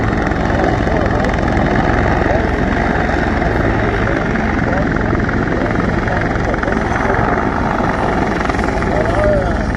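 Loud, steady drone and rotor beat of a Griffin helicopter flying at an air show in Debert, holding constant through the whole stretch with a broad, dense roar.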